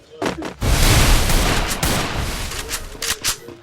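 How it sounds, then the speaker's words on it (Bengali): Rapid automatic gunfire rattles in a shooting video game, a loud sustained burst followed by several sharper shots, with a player talking over it. "ফায়ার দিয়ে গুলুটা মার ভাই"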